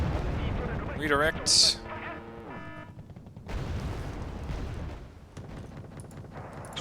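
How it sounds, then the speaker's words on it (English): Gunfire and artillery from the real-time strategy game Wargame Red Dragon, infantry trading shots: sharp bursts around the first two seconds, then a rumbling mix of distant fire and explosions under a commentator's ongoing talk. "we're shooting infantry. And the infantry is shooting back."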